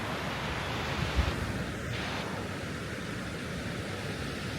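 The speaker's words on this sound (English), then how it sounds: "we're staying by the beach here in Da Nang" Ocean surf rolls onto a wide, open beach at Da Nang, Vietnam, a constant broad wash of waves mixed with wind rumble on the microphone, with no voices.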